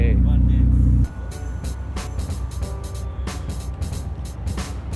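Nissan Skyline GT-R cars, R33 and R32, rumble at Daikoku Futo parking area; a loud close engine drone drops to a steady idling roar with scattered clicks, while other vehicles and crowd noise sit around it.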